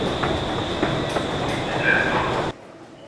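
A Stockholm subway train running on its rails gives a loud, steady rumble with faint clacks and a brief squeal, then cuts off abruptly after about two and a half seconds.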